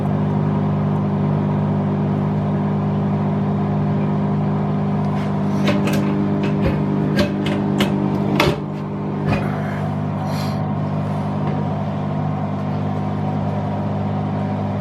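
A Bosch Exxcel 1400 Express washing machine spins on a woollens 30°C cycle. A steady loud motor hum and rumble carries through, with a series of sharp knocks and clicks in the middle and no talking.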